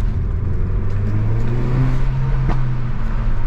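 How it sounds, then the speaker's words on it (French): Exhaust and engine of a Renault Megane 4 RS Trophy 300 hp, a steady, loud, close rumble with a low drone, warmed up and running outdoors. "On a également un retour à l'échappement."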